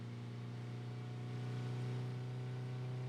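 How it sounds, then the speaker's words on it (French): Steady low car engine drone in the driving game Drive Beyond Horizons, a constant humming idle with faint harmonic whine, holding even and unbroken throughout. "Moi, j'entends un bruit dans le moteur."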